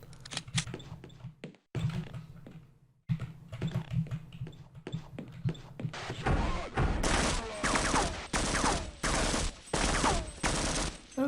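Rapid bursts of gunfire from a video game set in an abandoned city, repeated volleys growing louder and denser in the second half, with faint typing-like clicks early on.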